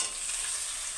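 Tomatoes hitting a hot pan for a bachelor-style egg curry, a steady close hiss and sizzle of frying filling the whole second with no pauses.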